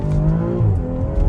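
A BMW X3 M40 with the B58 engine accelerates hard in a pull, its engine giving a loud, continuous rising drone with rich harmonics and no talk over it.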